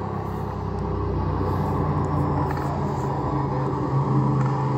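A Yamaha Ténéré 700 motorcycle accelerates to overtake on a winter road, a steady engine rumble that rises slightly in pitch near the end, heard from the rider's position under wind noise.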